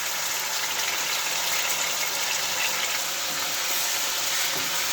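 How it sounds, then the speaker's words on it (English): Chicken pieces fry in hot oil for a chicken and tomato karahi, a dense, steady hiss of sizzling that holds at an even loudness throughout, with no talking. "the oil is sizzling, so we can add the chicken to that"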